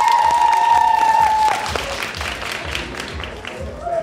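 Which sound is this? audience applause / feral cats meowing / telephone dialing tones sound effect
audience applause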